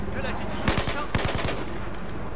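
Two short automatic bursts of gunfire in the video game Battlefield 4, each a rapid string of sharp, loud shots, fired about half a second apart over a background of battle noise.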